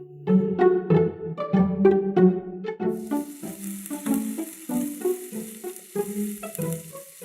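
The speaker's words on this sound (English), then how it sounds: "we will caramelize the apple slices by placing them into a frying pan" Apple slices drizzled with agave syrup fry gently over low heat in a frying pan, giving a steady soft sizzle that starts partway through and continues beneath melodic background music.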